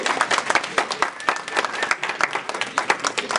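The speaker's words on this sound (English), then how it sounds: "So give her a round of applause." Lively audience applause for Dr. ESPER Hayes at an anniversary event, many hands clapping with a busy, uneven rhythm, close and fairly loud, with faint crowd voices underneath.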